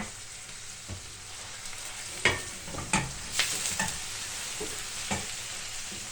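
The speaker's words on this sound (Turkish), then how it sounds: "kavrulan soğanlarıma salçamı koyuyorum." Tomato paste is stirred into sautéed onions frying in a pot with a scorched bottom, giving a steady soft sizzle broken by a few sharp spoon scrapes against the metal.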